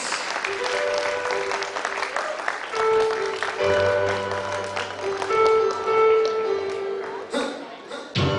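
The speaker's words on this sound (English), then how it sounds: "Let's give them a big round of applause, NES" An audience applauds loudly and steadily for the NES National team at a lively event, a continuous wash of clapping with voices and music tones mixed in.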